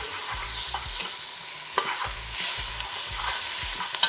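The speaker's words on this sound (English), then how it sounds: "Going to also add in our aromatics, which is the garlic, ginger, pimento, and celery. Let this saute for a bit." Garlic, ginger, pimento and celery sautéing in a pot for a vegan red kidney bean stew, a close, steady sizzle broken by repeated rhythmic scrapes and clacks of a stirring spoon, with no talking.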